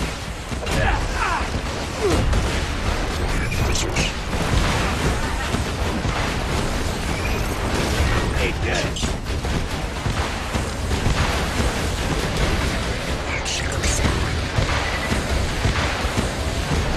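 Suicider enemies blowing up in Borderlands 2, heard as repeated loud booms and blasts within constant dense gunfire and combat noise, with someone talking over the action.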